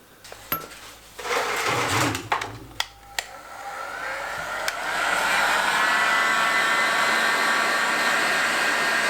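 Heat gun blowing hot air onto a K04 turbo part being rebuilt, starting as metallic clinks and knocks from handling, then a steady, loud rushing hiss takes over for the second half.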